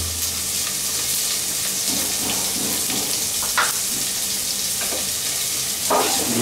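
A cup of chopped onions sizzles loudly and steadily in a hot pan for Bangladeshi savoury semolina with vegetables, with a few soft stirring clicks over the continuous hiss.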